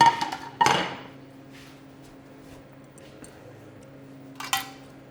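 A plate handled in a kitchen after a pan is cleared away: two sharp ceramic clinks, one early and one near the end, with quiet low room tone between.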